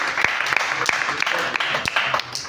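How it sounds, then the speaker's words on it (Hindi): Audience applause at a gathering, a steady wash of clapping with scattered sharper claps, moderately loud and continuous throughout with a faint voice beneath. "इनके लिए जोरदार ताली।"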